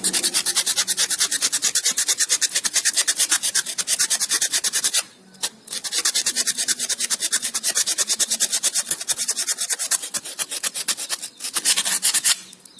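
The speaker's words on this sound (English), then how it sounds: "Now see how I am doing it. I am rubbing it." A rough scrubber is rubbed hard against a metal object to remove black spots, making a loud, close, rapid back-and-forth scraping in a steady rhythm, with two brief pauses.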